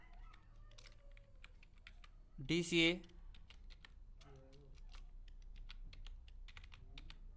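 Rapid computer keyboard typing while entering text into an Excel sheet, steady clicks throughout, close and fairly quiet, with someone briefly speaking over it.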